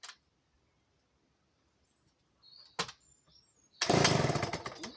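A vintage Remington Bantam chainsaw, needing a bit of choke, gives a couple of short sputtering pull attempts before catching and roaring loudly for the final second.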